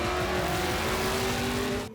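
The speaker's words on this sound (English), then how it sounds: "He squats down, builds those revs, plenty of wheel speed to try and get that truck up and moving as fast as he can." The Robinson off-road racing truck at the Finke Desert Race in Alice Springs revs hard and accelerates off the start in one loud, sustained engine roar with rising pitch, close by and without voices.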